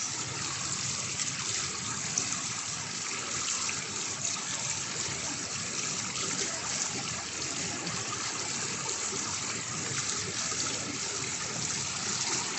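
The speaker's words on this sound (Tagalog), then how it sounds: "Ayan, at umaandar yung fountain." Fountain and cascading waterfalls running at an outdoor plaza at night, a steady broadband rush and splash of falling water that stays even and continuous throughout, with no talk.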